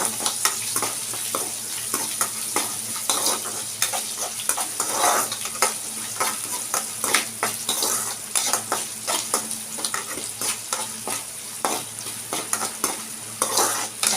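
Mustard seeds and spices crackling and sizzling in hot oil for a tempering, with repeated scraping stirs of a spoon against the pan, close and continuous.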